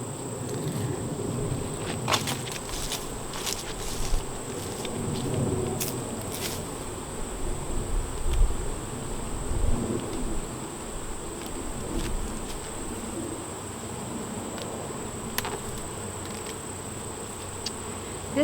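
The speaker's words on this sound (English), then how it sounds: "Lots of little bees coming out." Steady insect buzzing from many bees around a hive, close and continuous, with a faint high whine running throughout and occasional small knocks.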